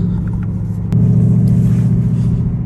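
A 2020 Ford Mustang GT, not yet fully warmed up on a very cold day, idles with a deep rumble, then its engine note steps up abruptly and holds a louder, steady rev, close and without talking.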